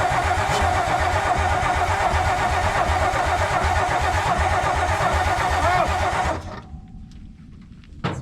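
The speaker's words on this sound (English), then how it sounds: "We're just gonna crank it over and see if it'll do anything" A 1962 Ford F600 truck engine cranks over on its starter with a steady, loud rhythmic churning that does not catch, then stops, leaving quieter background.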